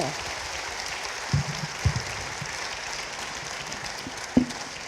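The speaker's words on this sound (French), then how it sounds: "On applaudit nos invités." Soft, fairly distant applause from an audience thanking guests at a talk, a low continuous patter of clapping with a few sharper knocks standing out.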